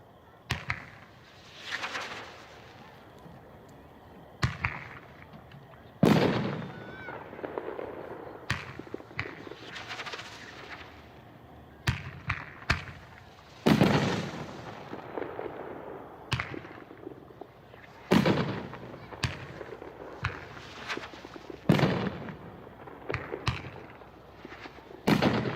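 A 12-shot, 500-gram firework cake ending in a willow finale fires off loud, sharp bursts in irregular clusters, each crack followed by crackling decay, spread across the whole stretch with no talk.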